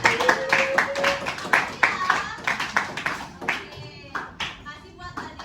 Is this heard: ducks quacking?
no